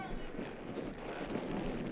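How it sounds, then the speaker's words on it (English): Strong wind buffets the microphone outdoors at a girls' varsity soccer game, a steady rough rumble with gusty swells that runs through the whole short stretch. "It's so windy out here"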